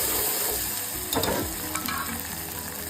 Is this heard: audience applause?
no